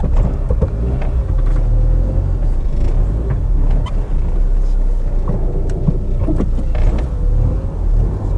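A cheap Citroen Saxo without an MOT and with a flat tyre is driven a short way, its engine a steady, loud, low rumble heard from inside the car.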